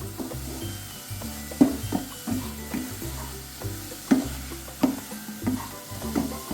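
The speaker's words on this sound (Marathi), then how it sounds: "जायफळ पावडर दोन्ही घालत आहे आणि मिक्स करून घेऊ सगळं" Modak filling of coconut and jaggery with nutmeg powder being stirred in a pan, rhythmic spatula scrapes and knocks every second or so over a low sizzle, close and clear, no voices.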